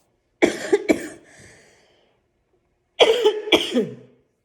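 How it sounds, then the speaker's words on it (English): Two bursts of coughing, each a quick pair of harsh coughs, close and clear, separated by a brief silent pause. "The coughing continues."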